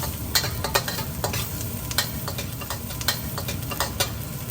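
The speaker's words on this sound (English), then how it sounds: "Cook it for about 1 minute to get the flavor out of the sausage and the onions." Sausage and onions stir-fried in a wok for Fuchow chicken fried rice, a steady hissing sizzle punctuated by sharp rhythmic spatula clacks against the metal, close up and with no one speaking.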